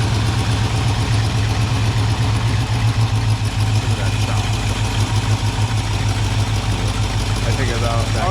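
A 1978 Ford Bronco engine runs on choke while warming up, idling with a constant, close, rumbling drone and a regular pulsing beat throughout.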